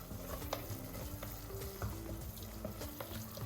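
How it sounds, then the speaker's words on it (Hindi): Tomato masala frying in oil over a medium flame, a continuous close sizzle and bubbling with occasional stirring scrapes throughout, with nobody speaking. "टमाटो अच्छे से पक के तेल छूटने तक फ्राई करते रहना है"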